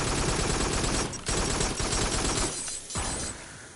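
A gun in the VR shooter Farpoint fires in loud, sustained automatic bursts that break off in short gaps and trail off at the end as the weapon overheats.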